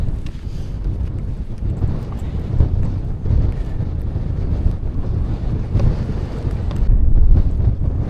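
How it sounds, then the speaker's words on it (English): Strong gusting wind on the summit of Fairfield in the Lake District battering the microphone, a loud, continuous low roar and rumble with surging buffets throughout and no clear voice. "Don't know if you can hear me, really windy"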